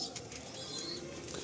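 Fancy pigeons kept by a hobbyist, including Andhra pigeons, give soft, brief cooing against a faint background hiss, with no talk.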